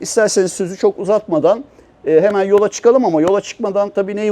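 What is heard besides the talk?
None of the usual background noises is heard.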